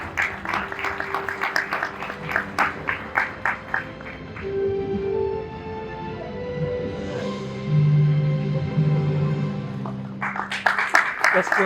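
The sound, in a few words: audience applause for architect Reza Khatun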